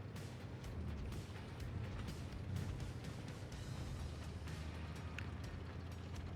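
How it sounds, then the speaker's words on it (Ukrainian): Tank cannon shots ring out in the video game World of Tanks Blitz. Several sharp, booming blasts and impacts sit over a rumbling battle background at a fairly low level. "Хельсінг дає влучно два своїх постріла. Наш герой так само видає обидва постріли по Хельсінгу"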